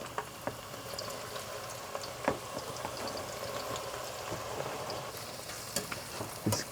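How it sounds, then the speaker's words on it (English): Chicken pieces fry in hot oil for biryani, a second batch in a slightly crowded pan. The frying gives a faint, steady sizzle with scattered small pops and crackles. "the oil is ready for our second batch"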